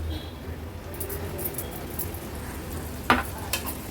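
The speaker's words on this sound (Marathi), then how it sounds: "दही घातल्यानंतर अर्ध्या ते 1 मिनिटासाठी व्यवस्थित ह्या मसाल्यामध्ये दही आपल्याला मिक्स करून घ्यायची आहे" Curd being stirred into a masala gravy in a pan, heard as a soft, continuous scraping and sizzling close by, with one sharper clatter of the spoon against the pan near the end.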